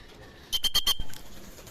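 A racing pigeon lands at a derby loft with a quick burst of four or five sharp wing claps and flutters, close and fairly loud, followed by a soft thump and quiet rustling.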